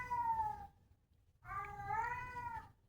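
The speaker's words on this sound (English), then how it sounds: "Our cat has learned to say hello and will say it over and over again in the hopes that we will be annoyed enough to let it into a room" A house cat meows two drawn-out, voice-like calls with a pause between them, close and clear, while trying to be let into a room.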